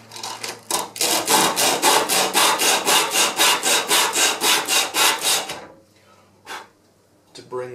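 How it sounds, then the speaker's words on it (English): Sandpaper is rubbed back and forth over a wooden wing part, making about fifteen even, rhythmic rasping strokes. Then it stops and a couple of faint scrapes follow. "use sandpaper"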